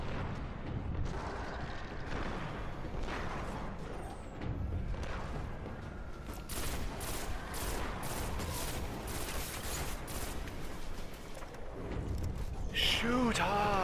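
Continuous video game gunfire and explosions from a shooter, dense bursts of shots and booming blasts running throughout at steady loudness, with a player talking over the action.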